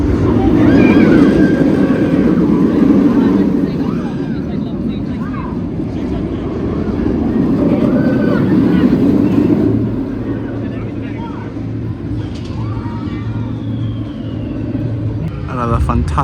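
Ride on the Nemesis Inferno roller coaster at Thorpe Park: a loud, continuous rumbling roar of the train on the track, swelling and easing as it runs, with wind noise and indistinct rider voices mixed in.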